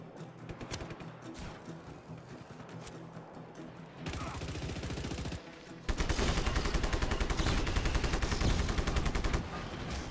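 Automatic gunfire from a weapon in the video game Just Cause 3, first scattered shots, then a long rapid burst of rattling fire that grows louder and holds steady for several seconds.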